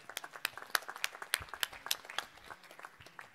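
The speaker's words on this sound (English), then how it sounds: "one final round of applause for Mesh." After a startup pitch at a competition, a small audience claps in distinct, fairly sparse hand claps that come in a loose rhythm for a few seconds and then thin out.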